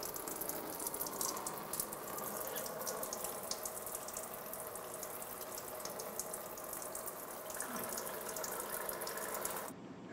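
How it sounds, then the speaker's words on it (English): Coolant draining from the radiator of a 2000-2006 Toyota Tundra with a 4.7L V8 into a bucket, a steady close splashing pour of liquid that runs throughout and stops sharply at the end. "Make sure you have a bucket under it. And start to drain the coolant."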